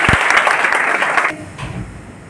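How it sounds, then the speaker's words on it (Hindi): Audience applause at an RCM seminar in Silvassa, a loud, dense burst of clapping that stops abruptly partway through, followed by a quieter room with faint murmuring. "एक बार जोरदार तालियां।"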